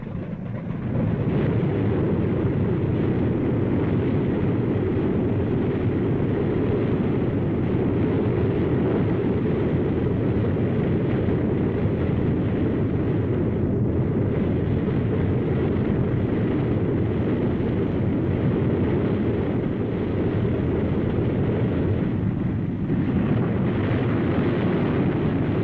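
A TWA airliner rumbles through its takeoff roll, a steady loud roar of jet engines that holds for the whole stretch with no voices over it.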